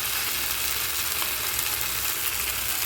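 Spiced masala for a katla fish curry sizzles and crackles in a hot pan as sauce goes in, a steady, close, unbroken fry hiss with no talking.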